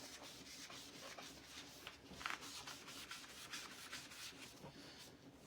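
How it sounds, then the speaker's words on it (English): Board eraser rubbing leftover paste off a craft board, a faint rhythmic scrubbing with quick repeated strokes close by. "just using my board eraser to get the rest of the paste off of here."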